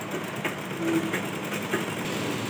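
A sewing machine runs steadily as it stitches a blouse strip, a low continuous mechanical whir at moderate distance with no break.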